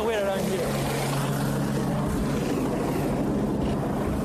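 Motorboat engine on a boat chase in Norfolk, a continuous loud droning roar with choppy water noise, steady and close throughout while voices talk over it.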